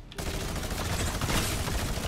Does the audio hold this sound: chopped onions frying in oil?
no